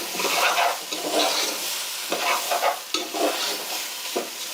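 Rice being lightly fried and stirred in a pan while making chicken bhuna khichuri, with a steady close sizzle broken by repeated scraping stirs and no voices.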